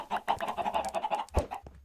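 Chickens on a game farm cluck in a quick, bubbling run of short calls, close and fairly loud, ending with a few scattered clucks.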